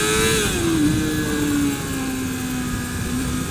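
A 1996 Suzuki Bandit 250 motorcycle's 250cc engine revs high and steady from the rider's position, its pitch easing slightly as it pulls along a winding road, loud and continuous with no talking.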